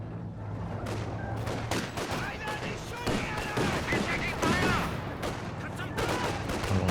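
Machine gun fire during a Company of Heroes 2 2v2 multiplayer match, a steady dense crackle of gunfire running throughout under live commentary.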